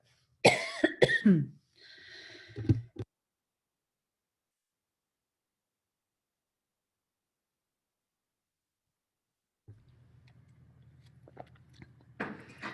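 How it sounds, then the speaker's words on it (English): A sharp cough burst with throat noise near the start, then silence, followed later by a faint low hum and rustle. "had to do a little cough there"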